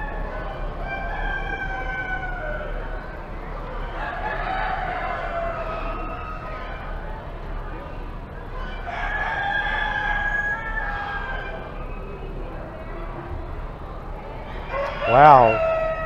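Roosters crowing in a state fair poultry barn in Kansas, with Rhode Island Red and New Hampshire breeds among the birds; several crows rise and fall over a steady crowd murmur, with one loud near crow at the end.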